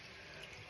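Water running steadily from a bathroom tap onto hands during a nightly skincare cleanse, a constant close hiss with no pauses.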